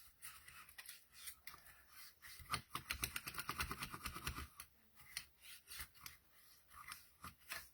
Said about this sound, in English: all I'm doing is just sort of burnishing that down flat in there